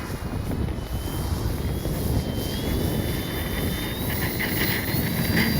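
E-flite Commander radio-controlled plane on its maiden flight on a windy day, a steady thin motor drone in the distance under heavy wind rumble, with the pitch slowly rising.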